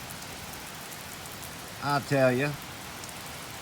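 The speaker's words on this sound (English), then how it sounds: "when it rains, I'm telling you, it pours" Steady rain falls on a driveway in western Pennsylvania, a constant soft hiss of drops heard from a garage, with someone briefly speaking over it midway.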